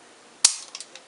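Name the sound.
dry firing a Smith and Wesson 1911 .45 pistol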